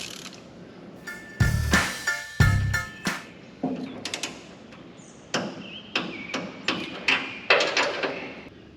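A hand tool sets bolts on the idler arm of a 1965 Mustang steering assembly, producing close, sharp metallic clicks and taps in irregular bursts, ending in a quick ratcheting run of evenly spaced clicks.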